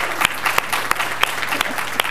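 Applause from a crowd at an Asian Law Center anniversary celebration: a dense, even roar of clapping with periodic sharper hand claps standing out, sustained throughout and close by.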